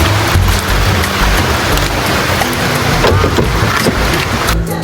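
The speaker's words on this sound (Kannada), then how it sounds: "ಮಳೆ ಬೇರೆ ಸಿಕ್ಕಾಪಟ್ಟೆ ಸುರಿತಾ ಇದೆ." Heavy rain pours steadily during a rainy monsoon outing near Kumta, a loud, dense wash of drops on surfaces with no pauses and no voices.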